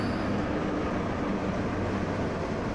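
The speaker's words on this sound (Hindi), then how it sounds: "सारे ब्रेक अप्लाई कर देता हूँ मैं।" An Indian Railways locomotive runs with all brakes applied. A loud, dense rumble of rolling wheels and machinery fills the cab evenly, and there is no talk.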